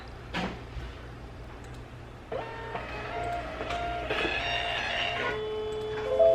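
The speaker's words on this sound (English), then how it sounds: "Oh, did you hear that sound? My printer ran out of labels." A small label printer whirs and feeds with mechanical buzzing tones, starting after a brief click and continuing in steady motorized bursts as it runs out of labels.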